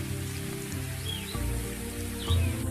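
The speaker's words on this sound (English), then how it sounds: "The rain very quickly brings a close to the seemingly incessant days of heat," Rain falling steadily across open African bush at the end of a hot dry season, a broad soft patter with a low rumbling undertone, close and continuous, with faint bird calls above it.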